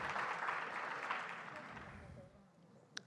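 Audience applause at a launch event for a South African education accelerator, a broad wash of clapping that starts fairly full and gradually thins and fades over about three seconds, ending with one sharp isolated clap.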